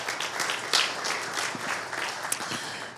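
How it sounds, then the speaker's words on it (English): An audience at a real estate tax seminar breaking into a short round of applause, a dense wash of clapping hands filling the room for a few seconds. "give a quick round of applause for the Norris Group"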